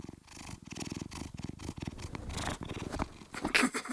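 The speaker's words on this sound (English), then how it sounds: "I heard him purring." A cat purrs steadily and close, a continuous rumbling pulse with soft breathy swells and no voices over it.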